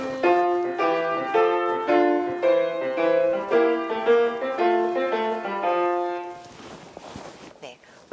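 Piano playing a variation from Beethoven's Six Variations on a Swiss Song, a bright treble melody over a dotted-rhythm left hand in steady march-like pulses, close and clear, ending with a brief noisy tail.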